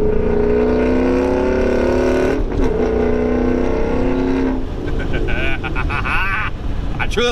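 A 2016 Mustang GT fitted with a Corsa Extreme catback exhaust rumbles steadily in a tunnel, then a loud rev and droning exhaust note build with shifting pitch, echoing around the enclosed space.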